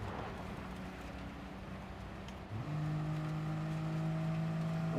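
A Suzuki Jeep's engine in the racing game Gran Turismo 7 drones at a low pitch, then jumps and holds higher revs as the throttle opens, steady and fairly quiet with no talk.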